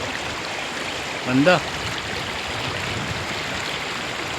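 A clear river in New Zealand flows with a constant soft rushing hiss, while a voice briefly speaks one word over the water.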